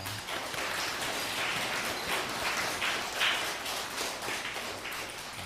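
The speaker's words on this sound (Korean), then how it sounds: "우리 옆에 있는 분들 박수로 환영하겠습니다." A church congregation applauds during a Sunday worship service to welcome visitors, steady moderate clapping from many hands throughout, fairly soft and slightly distant.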